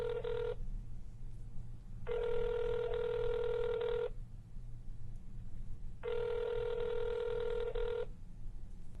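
A phone rings three times unanswered, each a steady two-second electronic trill separated by pauses, clear over a faint low hum with no voices.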